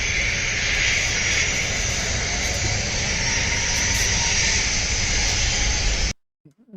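An airplane at Chicago roars steadily and loudly, a broad hissing jet noise that holds for about six seconds and then cuts off abruptly.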